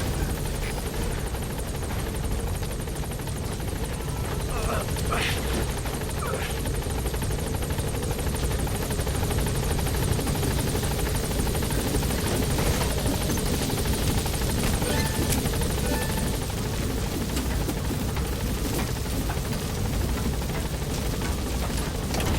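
The Pequod helicopter from Metal Gear Solid V: The Phantom Pain flies overhead, its rotor wash making a loud, constant thudding roar that runs throughout without letting up.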